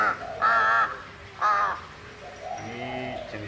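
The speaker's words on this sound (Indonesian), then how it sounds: "Jadi burung gagak ini termasuk burung yang cerdas." A female crow gives two loud, harsh caws about a second apart, each short and raspy. Quieter bird calls and low murmuring sounds follow in the background.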